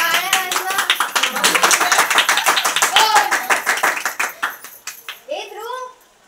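A small group claps together in a home during a Ganpati festival celebration, a dense run of bright overlapping claps that fades out near the end, with a voice calling briefly at the close.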